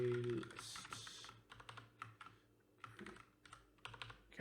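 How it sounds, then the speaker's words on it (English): Rapid, uneven keystrokes on a computer keyboard during a coding session, clattering in clustered bursts with short pauses, close and fairly quiet with no talking. "my typing is terrible today"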